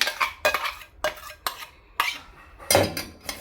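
Coconut chutney paste is scraped out into a large pot with a metal spoon, five or six sharp clanks and scrapes against the vessel, close and fairly loud.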